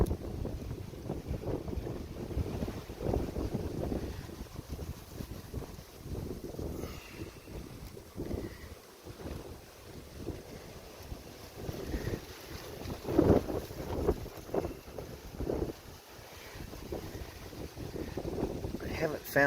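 Strong gusty wind roaring right after a hurricane, buffeting the microphone outdoors beside a beehive in continuous rumbling surges that swell louder around the middle, with no speech.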